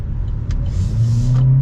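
A 2022 Buick Encore's small 1.4-liter engine pulls away, with a loud, close low drone and a pitch that climbs steadily as it accelerates.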